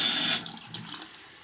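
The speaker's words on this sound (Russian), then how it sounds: "проверить давление водопровода, открыв кран холодной воды на кране смесителя" Cold water runs steadily from a mixer tap, a broadband hiss that is strongest at first and then settles into a quieter, even flow with no voices.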